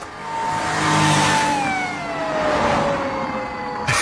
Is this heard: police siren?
yes